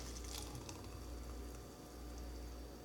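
An acai banana smoothie is poured into a reusable Starbucks cup, giving a faint, steady liquid glug and trickle for a few seconds at close range.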